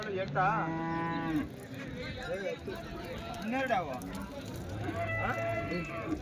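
Calves at the Chintamani Sunday cattle market, several moos rising and falling close by, overlapping with people talking in the background.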